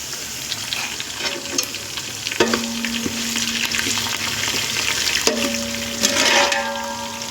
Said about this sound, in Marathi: मिरची अगदी लाल झाली आहे आता त्यात टाकू या कढीपत्ता